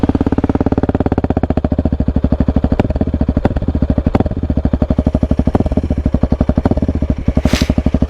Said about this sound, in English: I'll give you guys a couple more revs here.